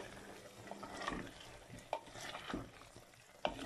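Tinda (apple gourd) and meat being stirred together in a pot, with scraping spoon strokes and a soft sizzle throughout, a few sharper clinks standing out, no talking.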